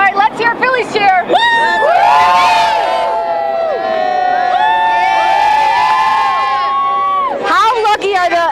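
Children cheer and shout at a Phillies championship parade, a loud sustained chorus of high voices rising into a long collective whoop, then breaking into scattered excited yells.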